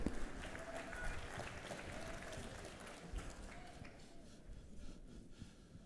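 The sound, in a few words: audience applause for a football coach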